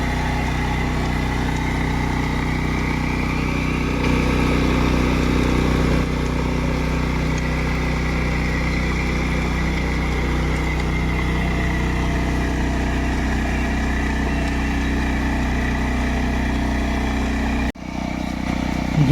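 A tractor engine runs at a steady idle-to-work pace in a muddy, flooded rice field, giving a continuous low rumbling drone close by that cuts off sharply near the end.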